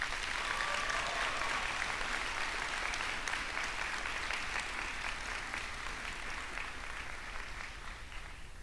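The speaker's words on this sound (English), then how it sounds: "Please give Dwyer staff and faculty a pantherific round of applause" Sustained applause from a crowd honoring school staff and faculty at a high school graduation ceremony, a dense even wash of clapping that holds steady for several seconds and slowly eases, heard at a distance in a large venue.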